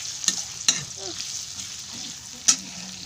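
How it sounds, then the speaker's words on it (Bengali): Onions frying in oil in a pan, a soft continuous sizzle punctuated by a few sharp spatula scrapes and clinks, close up with no talk. "পেঁয়াজটাকে ভালো করে একটু ভেজে নিই"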